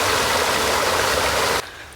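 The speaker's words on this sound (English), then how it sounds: "sound of the water as well." A creek flowing beside a free campground in the James Reserve, Strathbogie Ranges, Victoria, gives a steady, loud broadband rush of water that cuts off abruptly near the end, leaving a much quieter background.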